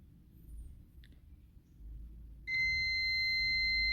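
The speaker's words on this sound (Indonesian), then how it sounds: "Nah ternyata buzzer bunyi dan angkanya sama" A multimeter continuity buzzer sounds a steady, loud, high beep partway through, held to the end, while probing a part from a Polytron PLD 24D123 TV over a low background hum.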